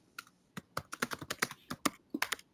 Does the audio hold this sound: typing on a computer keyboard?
yes